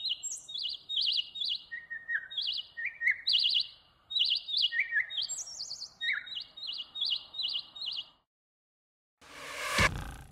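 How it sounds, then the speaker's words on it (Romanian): Small birds chirp and tweet in quick repeated bursts around a nest, bright and fairly close, with a short pause near the end followed by a brief rustling burst. "Pasărea trăiește în cuib."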